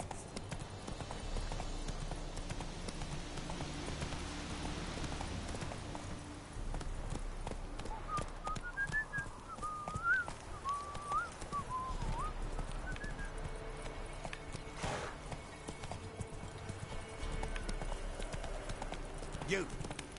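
Roach, a horse in The Witcher 3, clip-clops steadily at a brisk pace for the whole stretch, hooves drumming under game music and ambience, with a faint whinny-like cry partway through.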